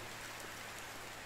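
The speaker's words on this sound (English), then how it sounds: "So, this is summertime and it's raining." Steady rain falling in the medieval survival game Medieval Dynasty during summertime, a soft continuous hiss of raindrops heard faintly and alone.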